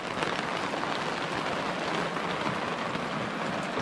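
Heavy rain pours onto a camper van parked at night beside a river in the Arxan wilderness, a dense, steady roar of drops that stays loud and even throughout with no voices.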